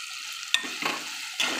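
Spice masala for a desi chicken curry is stirred over a low flame, with a few short scrapes and a soft sizzle between pauses, heard up close and without talk.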